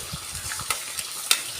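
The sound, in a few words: garlic frying in oil in a pan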